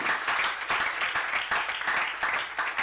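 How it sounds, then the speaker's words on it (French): A church congregation claps together in a steady run of applause, with bursts rising and falling in quick rhythm close by, filling the whole stretch. "Just clap for yourself."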